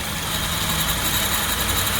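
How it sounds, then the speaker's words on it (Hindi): Release bearing noise from a worn dual clutch gearbox in a Hyundai Creta DCT, a steady droning whine and rumble with a high-pitched hiss laid over the engine, continuous and fairly loud throughout. "रिलीज बेरिंग की आवाज़ आना चालू हो जाती है।"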